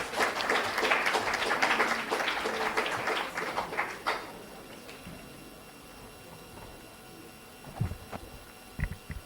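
Dense applause from a conference audience at the ICSE 2023 closing ceremony fills the first four seconds, then fades to a quiet room with a few scattered thumps and sounds.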